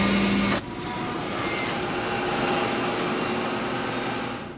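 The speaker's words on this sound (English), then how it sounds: "Then there was kind of a grinding noise." A steady grinding, droning noise aboard a United Airlines airliner on Flight 811, continuous and fairly loud after a brief tone cuts off at the start, with no voices.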